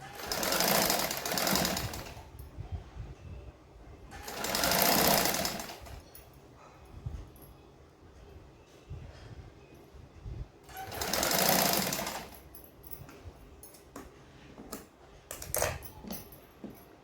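A sewing machine stitches pleats on a 40-inch katori blouse in three loud, fast bursts of rapid needle clatter, with quieter handling noises, small clicks and short runs of stitching between the bursts.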